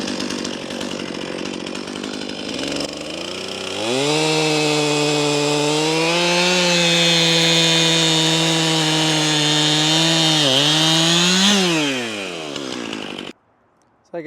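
A chainsaw bucks a log into firewood, idling briefly before revving up loud and close into a sustained high whine as it cuts, then winding down and cutting off.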